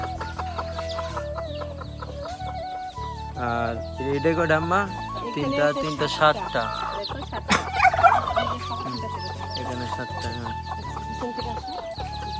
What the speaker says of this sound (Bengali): দুইটা মুরগি অনেকগুলা বাচ্চা দিয়েছে